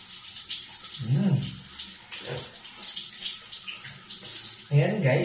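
Water runs and splashes while hair is rinsed and washed in a bath. The flow is close and uneven, with bursts of louder splashing at the start and end, and no talking.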